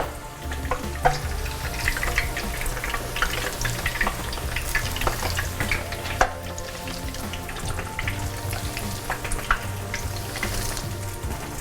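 Eggplant slices sizzle and crackle steadily in a hot pan, a continuous close frying hiss with occasional sharper pops and no talk over it.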